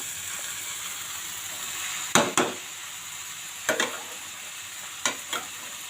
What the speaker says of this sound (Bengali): অনবরত নাড়তে থাকবেন এভাবে যেন নিচে লেগে না যায়